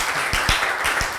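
A studio audience on a TV talk show claps for a guest in a brief burst, a handful of distinct claps over a hissy room background, short and moderately loud.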